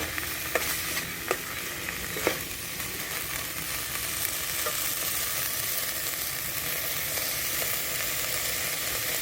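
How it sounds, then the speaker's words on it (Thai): Coconut milk and water go into a simmering Thai green curry with beef shank, a steady close sizzle and bubbling with a few sharp clinks of the spoon against the pot early on, no voices. "แล้วก็จะเติมกะทิ แล้วก็เติมน้ำเปล่า"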